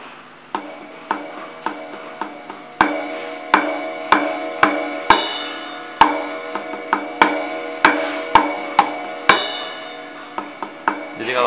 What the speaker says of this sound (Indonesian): Sekarang kita coba simbalnya atau ride-nya.